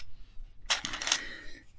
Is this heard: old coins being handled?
yes